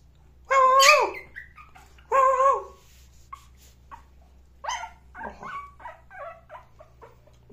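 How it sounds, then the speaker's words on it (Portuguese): A shih tzu puppy yips and barks in short, high-pitched bursts, two louder barks followed by a scatter of softer yaps and whimpers, close by with no talking. "E você, tá latindo?"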